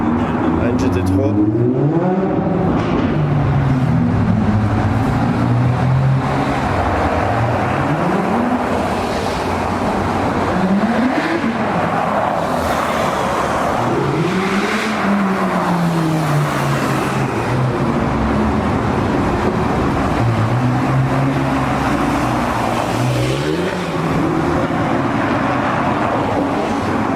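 McLaren 600LT supercar among other supercars on a road tour, its engine revving up and down in repeated rising and falling sweeps up close, with voices talking over the roar.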